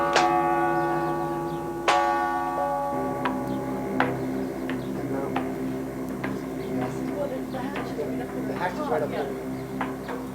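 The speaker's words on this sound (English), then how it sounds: "This is the big bell." Large bell hanging in a downtown bell tower, struck several times with strong, slowly decaying tones, followed by quieter repeated strikes and lingering hum, with people talking softly in the background.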